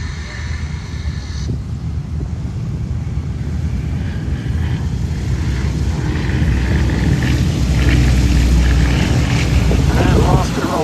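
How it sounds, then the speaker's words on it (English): Two Westland Lysander 3A aircraft take off from grass at the Duxford Battle of Britain airshow, a rising propeller drone building over wind noise while a commentator talks over it. "going off the grass, the two very distinctive forms of the Westland Lysander 3As"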